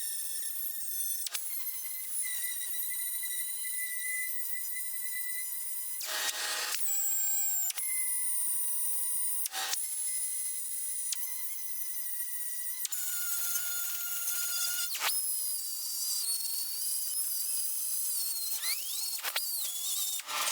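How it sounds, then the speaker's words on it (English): An angle grinder whines at a high pitch as it grinds down a weld on a steel rust repair patch panel, a steady screech that shifts tone under changing pressure, with brief gaps where the disc lifts off. "Let's go ahead and grind the top of this, and then we'll grind the bottom of it"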